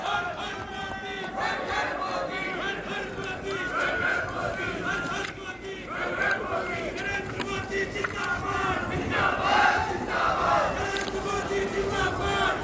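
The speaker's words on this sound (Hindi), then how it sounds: "एक बार जोरदार तालियां नरेंद्र मोदी जी के लिए।" Large outdoor crowd at the Kedarnath Temple event for Prime Minister Narendra Modi, a dense wash of cheering, clapping and chatter holding steady throughout, with voices mixed into the roar.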